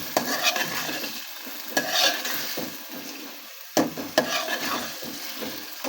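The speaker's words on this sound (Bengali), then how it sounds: "আমি আর একটু কষিয়ে নেব, তারপর মাছটা দেব।" Green banana being sautéed in a pan for a pangas fish curry, a steady close sizzle broken by several sharp bursts of spoon stirring and scraping against the pan, with no talking.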